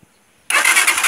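A motorcycle engine catches abruptly after a brief quiet moment and settles into a loud, steady idle nearby. No one speaks.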